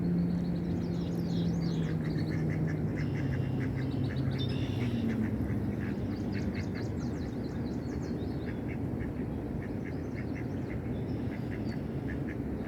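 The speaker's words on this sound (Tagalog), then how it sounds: "you see that duck over there? They're swimming." Ducks swimming on water quack in repeated bursts and short chattering series over a constant broad background wash, near and fairly loud throughout, with no talk.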